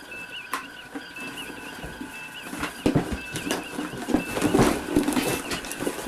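Chickens cluck intermittently over a noisy indoor background, with some sharp knocks and a flutter of wings near the end.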